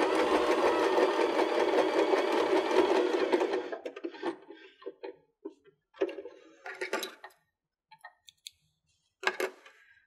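A Baby Lock BL9 sewing machine stitches cork fabric in a steady, close mechanical whir for several seconds, then halts, leaving scattered light clicks and rustles of handling.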